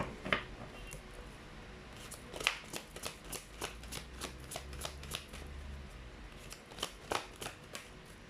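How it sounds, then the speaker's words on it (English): Tarot cards are shuffled and handled up close, quiet papery riffles and flicks with scattered sharper snaps of cards being pulled, set down and slid together. "Let's pull up more cards."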